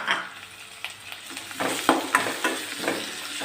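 Tomato pieces sizzle and fry in hot oil with a stirring spoon scraping the pan while making a Tamil-style chicken gravy, a steady close crackle broken by several sharp scrapes and clinks.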